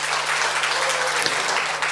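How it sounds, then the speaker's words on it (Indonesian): Brief burst of audience applause at an Indonesian stand-up comedy show, a dense clapping wash from a crowd lasting a couple of seconds. "Tepuk tangan sekali lagi buat Muslim."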